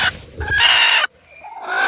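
A hen sits brooding on a farm, clucking in close, loud bursts that break off for a moment and then resume.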